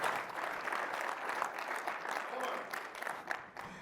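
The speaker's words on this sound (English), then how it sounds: "A round of applause for our 2 partners here." Audience applause after a partner session on ERP transformation with AI, a steady wash of clapping at moderate distance with some voices mixed in.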